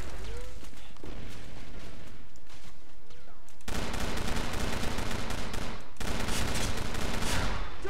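Gunfire from the video game Arctic Combat, a dense, loud run of shots throughout with heavier bursts in the second half, alongside some game noise.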